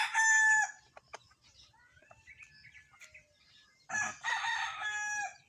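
Young stag roosters crow loudly and close by, with one long crow at the start and another near the end. Softer clucks and chirps fill the gap between them.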